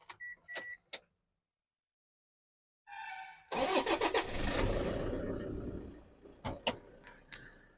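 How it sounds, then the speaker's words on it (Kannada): A Toyota Innova engine cranks and fires, then idles steadily at close range for several seconds, with a few sharp clicks and knocks before and after. "ನೋಡಿ, ಗಾಡಿ ಇಂಜಿನ್ ರನ್ನಿಂಗ್ ಸೌಂಡ್ ಕೇಳಿಸ್ಕೊಳ್ಳಿ ಯಾವ ಥರ ಇದೆ ಅಂತ."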